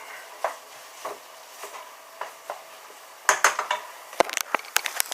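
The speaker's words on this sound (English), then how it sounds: "So just stir in all your vegetables." Vegetables being stirred into a pasta bake with a utensil in a pot: a few soft scraping strokes at a slow, even rhythm, then a busier run of sharper clinks and knocks against the pan, close by.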